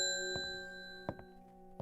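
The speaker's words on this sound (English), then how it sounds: "ring that bell." In the video game Strange Horticulture, a shop bell rings with a bright sustained metallic ding that slowly fades, followed by a few lighter clinks and taps as it settles.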